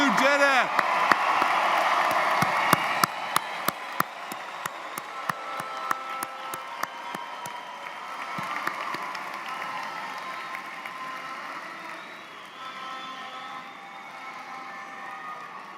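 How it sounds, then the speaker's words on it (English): Graduates of the class of 2023 receive applause at a Saturday morning business and STEM undergraduate ceremony, a crowd clapping that is strongest at the start and thins as it fades, with a few sharper claps and some voices mixed in. "Let's join in a hearty round of applause for the graduates of the class of 2023."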